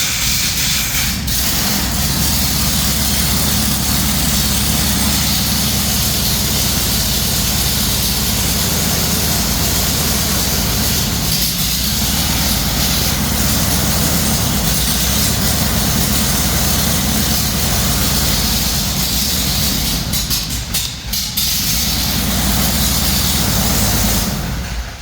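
Light aircraft engine running on the ground after its electronic ignition was replaced, a loud, steady drone held for the whole stretch with no talk over it.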